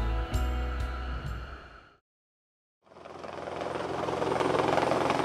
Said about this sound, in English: They take a helicopter to work.